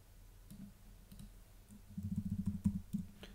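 Quiet keystrokes on a computer keyboard as a number is typed in: a few isolated taps, then a quick run of clicks near the end, with no voice.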